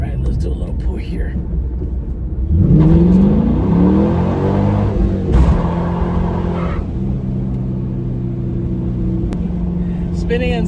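An SLP Camaro SS with a stock LS1 V8 pulls hard, its engine note climbing loud and close while the tires spin, the rising roar holding steady for several seconds before settling into a lower drone.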